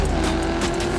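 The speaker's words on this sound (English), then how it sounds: "you can hear the sound just then as you go into the tunnel. It echoes a lot more" Upgraded car with chrome paint in the Test Drive Unlimited Solar Crown racing game driving into a tunnel, a loud steady engine drone with a reverberant, echoing tone and no pauses.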